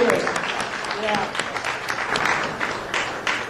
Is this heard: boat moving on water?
no